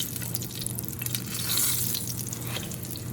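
Chile rellenos sizzle and crackle steadily as they fry in hot oil, with a close, continuous hiss and occasional spatters throughout.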